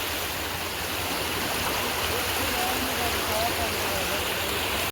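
Fast-moving floodwater rushes and churns steadily at close range, a loud continuous roar with no pauses.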